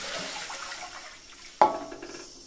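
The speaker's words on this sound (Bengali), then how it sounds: "এবার আমি এই কড়াইয়ে দিয়ে দেবো জল।" Water is poured into a wok in the kitchen: a soft running background, then a sudden splash at the start of the pour that fades into trickling liquid.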